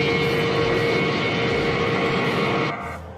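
Jet engines of an Embraer E175 airliner in Microsoft Flight Simulator give a steady, loud broadband roar with a sustained tonal whine, heard alone before dropping off abruptly near the end.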